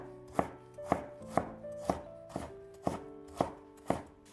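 A knife slices fresh ginger into thin shreds on a cutting board, eight crisp, evenly spaced chops landing close and clear with no talking.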